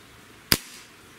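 A single sharp crack rings out close by from a Dan Wesson 715 .177 caliber pellet revolver with a 6-inch barrel, followed by a brief decaying tail over a low background hum.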